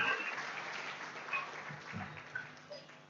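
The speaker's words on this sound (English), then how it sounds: "Another big round of applause for Honorable Mwamba." Applause rises for a Zambian government minister at an international child helplines consultation, a steady wash of clapping from an audience with some voices mixed in.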